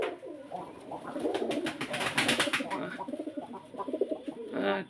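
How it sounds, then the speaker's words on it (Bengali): Several Madrasi pigeons cooing close by in soft, throaty, overlapping calls, with a rustle of wings or movement near the end. "টপ কোয়ালিটির ভিতরে একগুলো মাদ্রাজি কবুতর আছে"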